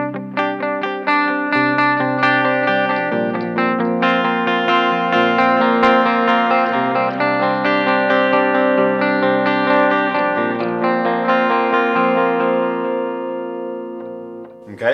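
An electric guitar runs through a Line 6 HX Effects delay pedal, its tapped-in delay repeats stacking into a loud, continuous wash of echoing notes for about fifteen seconds.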